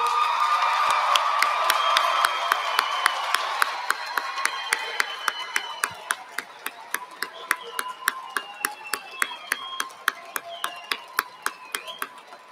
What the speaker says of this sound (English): stand and be applauded today